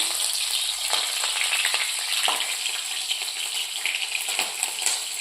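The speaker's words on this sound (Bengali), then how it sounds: "এবার কালো জিরেটা কড়াই দিয়ে দিলাম, সাথে একটা চেরা কাঁচা লঙ্কা দিলাম।" Black cumin seeds and a split green chili frying in hot oil in a wok, with a continuous crackling sizzle and a few sharper pops, close and alone.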